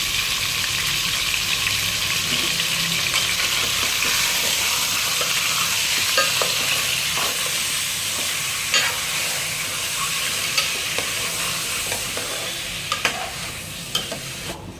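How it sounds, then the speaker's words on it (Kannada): Chicken pieces fry in six or seven spoons of oil in a cooking pot for biryani, a steady sizzle with scattered scraping and clinking as a spoon stirs, growing more frequent toward the end. "ಒಂದು ಪಾತ್ರೆಗೆ ಆರರಿಂದ ಏಳು ಸ್ಪೂನು ಆಯಿಲ್ ಹಾಕ್ಕೊಂಡು ಚಿಕನ್ನ ಹಾಕಿ ಚೆನ್ನಾಗಿ ಫ್ರೈ ಮಾಡ್ಕೊಳ್ಳಿ"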